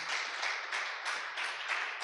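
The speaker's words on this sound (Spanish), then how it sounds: "Dele un fuerte aplauso a Dios" A church congregation gives a strong round of applause during a sermon, a steady, bright wash of many hands clapping in waves, fairly distant and soft, with no voices on top.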